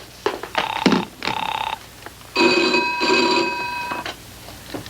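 A telephone rings on a call placed to Paris, sounding two short bursts of trilling bell followed by a longer double ring, clear and fairly close with no talk over it.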